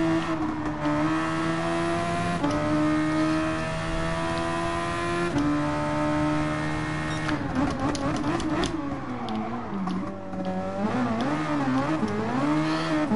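Race car engines in Gran Turismo Sport, a Super Formula race in Spain, drone loudly and continuously, pitch climbing and dropping through gear shifts with fluctuating revs near the end, no voice over them.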